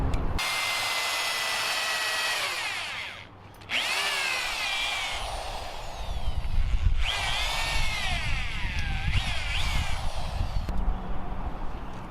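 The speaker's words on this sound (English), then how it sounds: "We're going to pre-drill a hole a little bit smaller than this" A power drill bores into a tree trunk, running continuously, pausing briefly once and then spinning back up with a whining, varying motor pitch as it bores in, loud and close.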